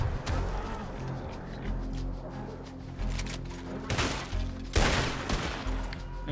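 Gunshots in Red Dead Redemption, a Western game: a couple of sharp, fairly loud cracks near the end, over a low rumble of game ambience.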